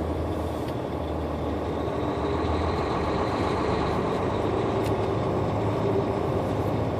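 Idling and passing trucks at a truck stop in Newton, Kansas on a breezy, cold day, a steady loud diesel rumble with a faint hiss and an occasional brief clank, and no speech.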